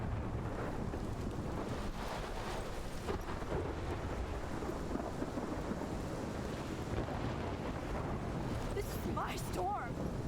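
A thunderstorm rolls through the game world of Life is Strange Remastered, with a steady roar of wind and rain and low rumbling throughout, loud and unbroken.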